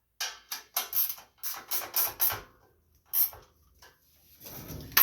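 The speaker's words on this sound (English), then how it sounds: "I'm going to use a ratchet wrench on this one," A ratchet wrench tightening 7/16 bolts on a Gilson rear-tine garden tiller, giving close, quick bursts of clicking in short repeated strokes, then a pause and a few more.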